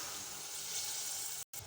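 Brinjal pieces hitting a pan of frying tomato masala give a steady, close hiss and sizzle throughout, cut off by a brief silent gap near the end before the sizzling resumes.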